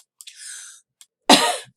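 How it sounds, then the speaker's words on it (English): Two coughs from one person, a short muffled one followed by a louder, harsher cough, close and clear with silence around them. "I got a little bit of a cough here."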